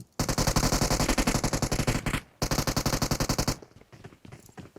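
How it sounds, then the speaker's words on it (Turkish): Rapid automatic gunfire in a video game, two loud bursts of evenly spaced shots, close and sharp, separated by a brief pause, then a few fainter shots trailing off at the end. "Vurdun mu lan Burak? Aa Burak'ı vurdular"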